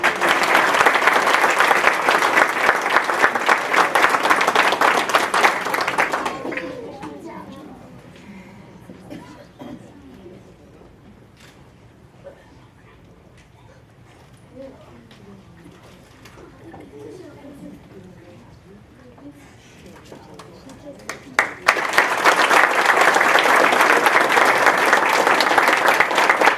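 Loud audience applause at a parish school board meeting, a long burst of dense clapping that stops abruptly into a quieter stretch with faint talk and room murmur, then a second strong round of clapping.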